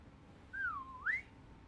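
One person gives a short two-part whistle that rises, drops, then rises again, heard clearly and alone against a faint background hiss.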